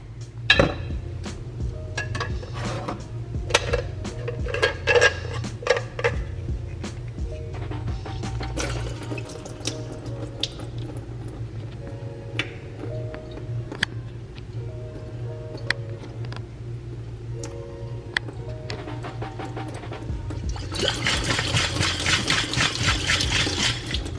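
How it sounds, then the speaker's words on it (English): Tap water runs into a kitchen sink while sprout seeds are rinsed, a steady close splashing with scattered clinks of a jar or dish, growing to a louder, fuller gush near the end. "Water, okay, and now we are going to rinse again."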